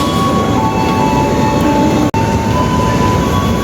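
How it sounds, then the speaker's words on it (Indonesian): The KA Argo Semeru passenger train, bound from Jakarta Gambir to Surabaya, rushes through a station as a loud, steady roar of wheels and wagons with faint high squeals. The sound cuts out for an instant midway, and no one speaks. "tadi itu yang melintas itu KA Argo Semeru ya, dengan tujuan dari Jakarta Gambir, tujuan Surabaya"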